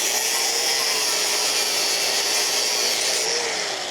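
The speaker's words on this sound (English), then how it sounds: "I just cut these tabs with the grinder to get them cut away." An angle grinder cuts away metal tabs on a spiral part, giving a steady, loud, harsh abrasive whine with a constant grinding hiss throughout and no pauses.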